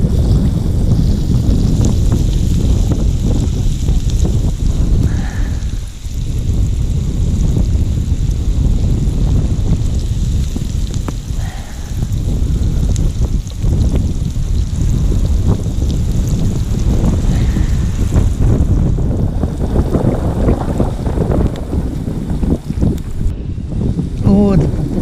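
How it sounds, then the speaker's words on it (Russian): A breeze rises beside a forest lake: steady, loud wind rushing and buffeting close to the microphone for the whole stretch, with faint water and occasional brief knocks underneath. "Ветерок только поднялся"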